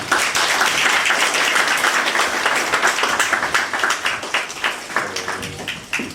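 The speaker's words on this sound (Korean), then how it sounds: "박수 부탁드립니다." Audience applause at a 40th-anniversary founding celebration of a Korean children's evangelism association chapter in Cheonan, a dense, loud wash of clapping filling the whole stretch and thinning toward the end.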